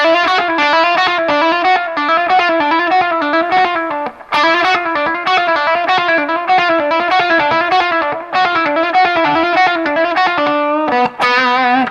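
Rock guitar lick on a heavily distorted electric guitar, a fast, fiery run of bent and sustained notes played loud and continuous for about eleven seconds with a few brief breaks.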